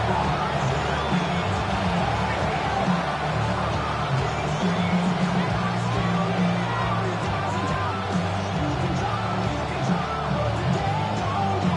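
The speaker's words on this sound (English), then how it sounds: "Not quite the same roar out of the crowd, Kate, that you're going to get with a touchdown, but still plenty of noise coming down" Stadium crowd noise in the Madden 26 American football video game, a dense, steady roar of cheering and yelling that fills the whole stretch at constant loudness without pause.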